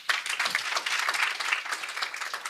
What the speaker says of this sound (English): Maybe another round of applause for them.